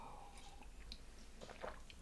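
Someone takes a sip of water close to the mic, with soft wet swallowing and mouth sounds over quiet room tone.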